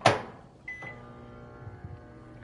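A God of War Ragnarok game sound resembling a microwave oven: a sharp electronic onset, then a humming drone with faint beeps and soft clunks, moderately quiet and without speech.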